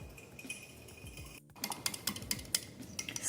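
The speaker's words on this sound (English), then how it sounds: "And whisk." Honey and soy sauce glaze whisked in a small bowl, a quick run of light clinking, tapping strokes that pick up in pace and loudness after a brief pause, close by with no talking.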